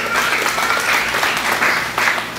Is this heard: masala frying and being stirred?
no